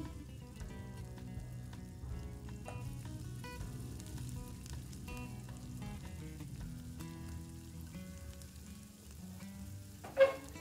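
Chicken tikka kebabs in a pan over a low flame, a faint soft sizzle with light crackles and a sharp clatter near the end, quiet and close, with no talking.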